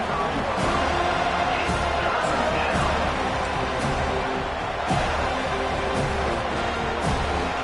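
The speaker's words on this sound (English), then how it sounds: "Decibels rising as the crowd gets behind this defense on 3rd down." A stadium crowd at an American football game roars and cheers behind the defense on third down, a dense, sustained wall of noise swelling slightly, with an announcer's voice mixed in.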